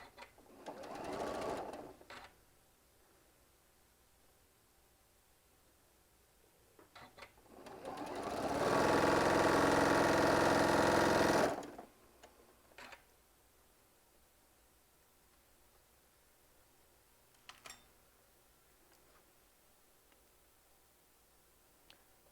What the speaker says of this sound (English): And just like we did with the sewing the orange and the whites, I'm just chain piecing every one of these through.